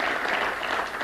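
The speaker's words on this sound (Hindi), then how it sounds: "एक बार ज़ोरदार तालियां हम सब कर्नल के पांडे जी के लिए बजाएंगे" An audience at a 1971 victory celebration event in India claps loudly and steadily, a dense sustained applause with no voices over it.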